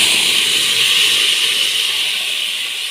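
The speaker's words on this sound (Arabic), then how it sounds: "بعد البصله ما خدت اللون الحلو ده، هبدا انزل بعصير الطماطم عليها اهوت" Tomato juice poured over browned onions in a hot pan sizzles with a loud, steady hiss, close up and continuous, fading slightly toward the end.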